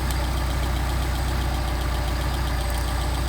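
A car engine fitted with rebuilt Solex carburetors idles steadily and close by, with an even low rumble and a fast regular pulse and no voices over it.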